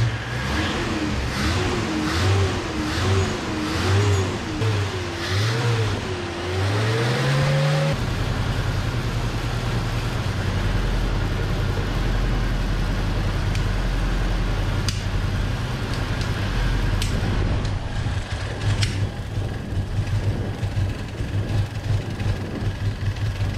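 A 1981 Ford Courier truck, an old U-Haul being converted into a work truck, whines through a wavering cranking or revving sound before the engine catches and settles into a loud, steady run up close, with rough rhythmic pulsing throughout.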